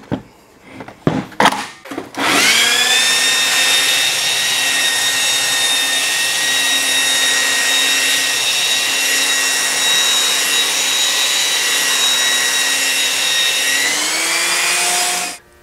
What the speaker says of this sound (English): We're going to try this 50 grit belt for about 5 minutes